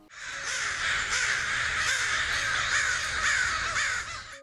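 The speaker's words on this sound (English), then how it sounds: "the sound of the crows began to get louder" A flock of crows caws steadily around a corn field, a dense, continuous chorus of overlapping harsh calls at moderate level with no speech.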